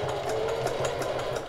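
A sewing machine stitches steadily through fabric for a shirt made of human hair, a close, continuous mechanical whir with a fast, even rhythm running throughout.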